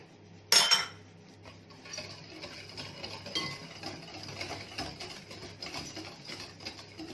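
Anise biscuit dough being stirred with a spatula, opening with a sharp clatter, then soft, repeated scraping and sticky dabbing sounds against the bowl, close and fairly quiet.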